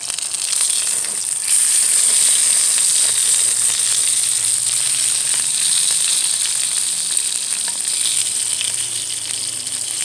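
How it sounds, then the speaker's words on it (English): A pepper fries in a cast iron pan while stuffed peppers are cooked, giving a loud, continuous hiss and crackle of sizzling oil from start to finish, with no talk. "Really all you're doing here is frying up the pepper, getting it soft."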